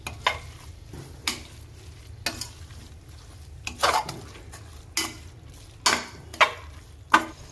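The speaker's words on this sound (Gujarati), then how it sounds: "હવે આપણે આપણે ઘીમાં શેકેલી હળદર નાખી દઈએ મિક્સ કરી દઈએ" A spoon stirs ghee-roasted turmeric into a cooking masala for a Gujarati fresh turmeric curry, giving a series of sharp scraping clinks against the pan roughly once a second over a steady low sizzle.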